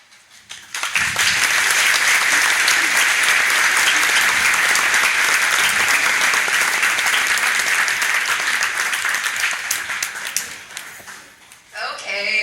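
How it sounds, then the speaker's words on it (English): Loud, sustained applause from a graduation audience thanking staff, a thick steady roar of clapping that starts abruptly, holds for about ten seconds, then dips briefly before surging again. "giving you a huge round of applause along with a record-breaking thank you"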